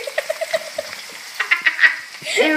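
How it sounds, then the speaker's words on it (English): Onions sizzling in a pan, with a run of short rhythmic scraping taps from stirring, close and fairly loud. "Looking at the onions frying."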